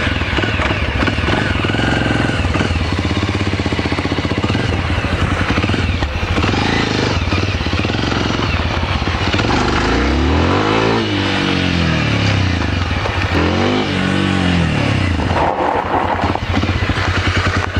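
Engine of a Sherpa off-road vehicle running loud and close throughout, with rising and falling revving sweeps as it accelerates from standstill and drives off.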